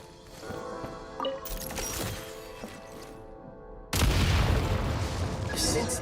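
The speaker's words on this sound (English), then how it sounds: "Shoot the explosives to detonate them and clear the path." Explosives set off by gunfire in a video game blow up with a sudden loud boom and crashing debris, following quieter game sounds and scattered impacts.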